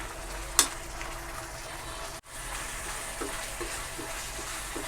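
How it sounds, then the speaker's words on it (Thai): Soft, steady sizzling of curry paste frying in coconut milk in a pan, with a brief sharp clink near the start and faint stirring. "ผัดพริกแกงกับกะทิให้หอมเลยจ้ะ"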